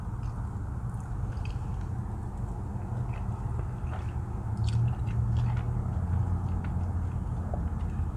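Close chewing and soft biting on Sonic Drive-In tater tots, a faint squishy mastication over a steady low background rumble, with no talk.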